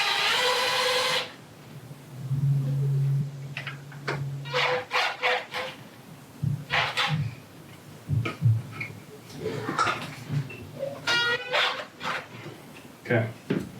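Gun rack bolts are retightened from the back with a tool. Scattered metallic clicks, rattles and scraping knocks come in short irregular bursts, mixed with handling noise and a brief whirring tone.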